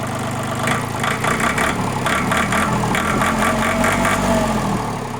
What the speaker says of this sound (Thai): ตัวนี้เป็นเครื่องยนต์สามสูบนะครับ เป็นเครื่องไดเล็กนะครับ